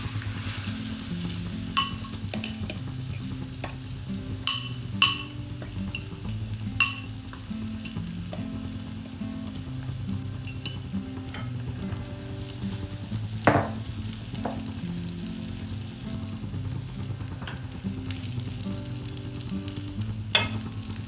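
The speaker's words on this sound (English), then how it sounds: "We can now transfer the mixture into the pan and cook at medium heat" A potato and egg mixture fries in oil in a pan over medium heat, giving a steady sizzle with scattered crackles and a few louder spatters and scrapes, and no one speaking.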